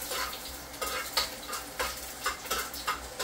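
Onion frying in oil for lat pat sizzles under repeated stirring, with about six crisp, evenly spaced scraping strokes over a soft continuous crackle, close and fairly quiet.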